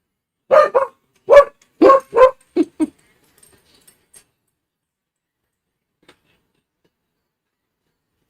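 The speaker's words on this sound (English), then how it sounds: "That damn dog. Barking at the wind, man." A dog barks in a quick series of five loud, close barks that then stop, leaving a near-silent stretch with a few faint ticks and a brief final yelp at the end.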